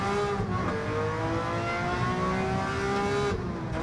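A 1967 Ferrari 330 P4 engine in Gran Turismo 7, driven in a time trial at Monza, holds a loud, steady high rev with a dense harmonic whine throughout, heard alone.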